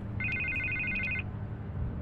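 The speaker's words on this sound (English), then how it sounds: "I can't get the phone to stop ringing." A telephone rings once, a short, bright trilling burst lasting about a second over a low background hum, then cuts off.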